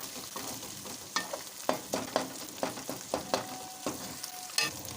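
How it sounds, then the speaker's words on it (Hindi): Masala frying for mutton keema, stirred with a spatula: rhythmic scraping strokes every half second or so over a constant sizzle, close and clear, with no voices. "अब हम मिक्स कर लेंगे अच्छे से"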